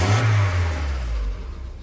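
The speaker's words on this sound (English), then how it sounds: "Give it a rev." A car engine revs once up close, a strong low roar that swells and then slowly falls back toward idle within about two seconds.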